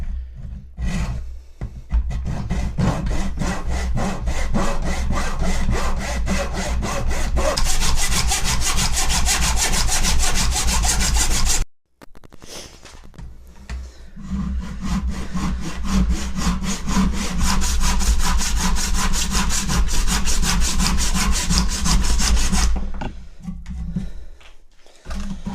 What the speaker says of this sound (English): for this notch, I think I'm going to hack it with the Bowie knife